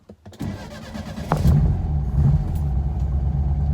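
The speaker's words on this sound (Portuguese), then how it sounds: "Vamos pegar aqui, ó, carburador de 50 anos, ó." A 50-year-old carbureted Volkswagen Beetle engine cranks briefly, catches and settles into a steady, loud, rumbling idle close to the microphone, with no talking.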